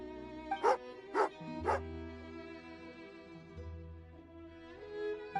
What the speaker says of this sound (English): Oh, angry doggy.